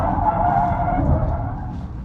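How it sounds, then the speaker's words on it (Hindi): A Tata Sierra diesel automatic drifts, its tyres skidding and scrubbing across the surface in one sustained, moderately loud squeal that fades slightly toward the end, with no voices. "इतनी अच्छी अच्छी ड्रिफ्ट कैसे मार रही है"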